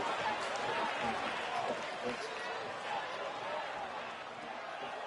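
Arena crowd in the WWE 2K26 wrestling video game roars and cheers in a steady, loud wash, with a commentator's voice running over it throughout.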